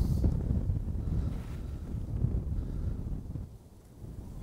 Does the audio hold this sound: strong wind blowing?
yes